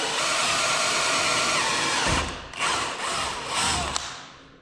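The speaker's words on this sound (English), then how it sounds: "So these ones you have to drill holes." A power drill whines continuously at high speed while drilling holes, then stops and restarts in several short bursts, close by and loud.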